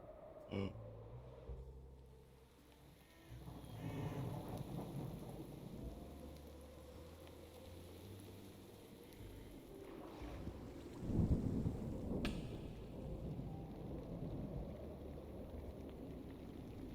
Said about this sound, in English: I like the sound of the rain, though